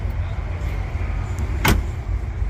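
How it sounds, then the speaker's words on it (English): A car door on a vehicle at a large car auction shuts with a single sharp, solid thud midway through, over a steady low rumble of background noise. "Oh, listen to that door again."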